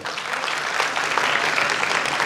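A seated audience at a book event in Kalol applauds an author: dense, even clapping from many hands, sustained at full strength throughout.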